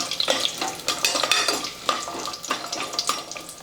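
Pepper, cloves and cashews fry in oil in a pan for hotel-style rice bath, a close, lively sizzle with repeated scraping stirs and clinks of a spoon against the pan.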